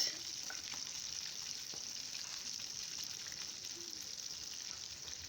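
Pieces of pork fry in hot oil in a home kitchen, giving a steady, soft, continuous sizzle with faint crackles throughout, heard alone at low level.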